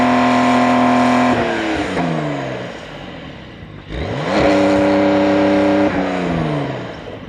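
A 2024 Porsche 911 Dakar engine heard from outside the car, revving up with rising pitch, easing off, then climbing through gear changes again, loud and close with no talking.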